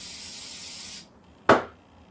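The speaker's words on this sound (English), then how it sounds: "I guess I like the good old dollar store spray." Dollar-store cooking spray hisses in a steady burst for about a second into baking pans, then after a brief pause a second short, sharp puff of spray follows, close and clear with no talking.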